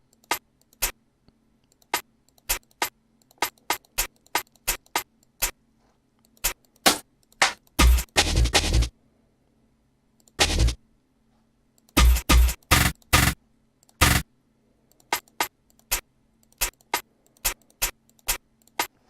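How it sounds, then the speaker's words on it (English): Programmed hi-hat rolls for a jungle beat in DUBturbo: sharp, bright ticks in an uneven, scattered pattern, broken by short rapid bursts of dense rolls, played alone with no voices. "I like to start with my hi-hats just to do my little rolls."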